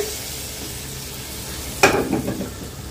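Chicken curry sizzles steadily in a pan, and a cumin-powder tempering is poured in, bringing a sudden louder burst of hissing and stirring near the end, heard close with no speech.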